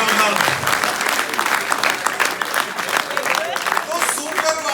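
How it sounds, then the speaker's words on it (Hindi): A comedy show audience breaks into hearty applause on request, a dense sustained wash of many clapping hands, with a few voices mixed in. "तो तालियां बजा दो एक बार जोरदार।"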